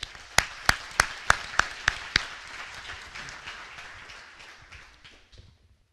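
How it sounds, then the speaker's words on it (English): Sparse applause at a high school awards ceremony: about seven sharp, evenly spaced claps stand out near the start, then softer scattered clapping fades away into quiet. "I want to give them a round of applause."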